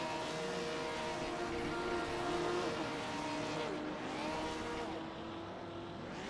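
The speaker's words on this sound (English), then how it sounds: "Yeah, and there goes the donuts." Race car doing burnouts and donuts at Daytona in a racing game, a continuous engine roar with rising and falling revs as it circles, heard at moderate level without talk.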